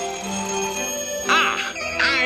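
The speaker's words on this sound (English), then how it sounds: "That's the top secret Gadget phone." The top secret Gadget phone rings in an Inspector Gadget cartoon, with two bursts of warbling electronic trills rising over a sustained tonal background.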